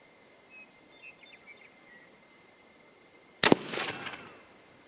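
A single sharp rifle shot from a .25-06 Remington loaded with Ramshot powder cracks out near the end, loud and close, followed by a short rolling echo after a quiet outdoor stretch.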